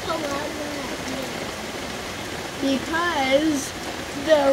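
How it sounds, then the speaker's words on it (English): Storm rain patters on an umbrella as a steady hiss beneath a person talking, the voice rising clearly above the constant drumming of drops. "Because the rain hits the umbrella and goes."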